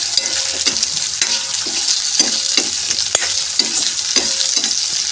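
Potatoes and French beans sizzle in a hot pan as a spoon stirs them, a bright frying hiss broken by regular scraping strokes about twice per second.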